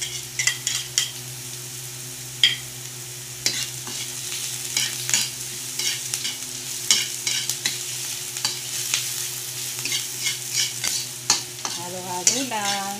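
Garlic sizzles in a hot pan for a simple sautéed bean sprout and tofu dish, a steady close frying hiss broken by repeated clinks and scrapes of a spatula stirring against the pan.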